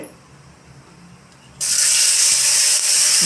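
Tomatoes hit a hot pan for a home-style matar paneer, setting off a sudden loud, steady hiss of sizzling that follows a quiet start and keeps going to the end.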